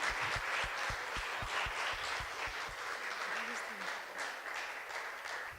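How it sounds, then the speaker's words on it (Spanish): A church congregation breaks into sustained applause, a dense wash of many hands clapping at moderate distance, with some sharper nearby claps and murmured voices underneath. "Vamos a darle un aplauso al Señor por su vida de mi hermana."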